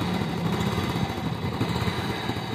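A motorcycle engine runs at a steady idle nearby, a continuous, moderately loud chugging putter with no speech over it.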